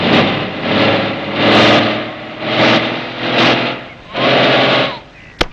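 A stuck vehicle that refuses to move has its engine revved in about five rhythmic surges, each swelling and fading, loud and close, ending with a sharp click.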